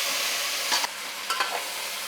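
Malabar spinach hits hot tempering oil with asafoetida in a pan, giving a steady broadband sizzle with a few brief stirring scrapes and crackles, no talking.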